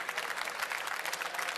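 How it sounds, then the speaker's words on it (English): Audience applause at a video game tournament in Orlando, a dense, steady clatter of clapping hands from a crowd that holds at an even level throughout. "Round of applause."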